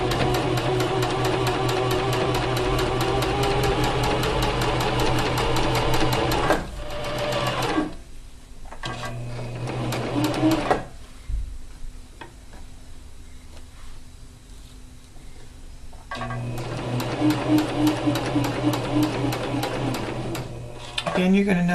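A sewing machine stitching fabric close up runs in a steady whirring buzz, stops, then starts again; someone speaks during the pause in between.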